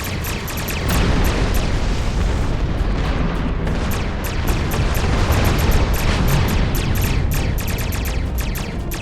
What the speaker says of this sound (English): And exploding ships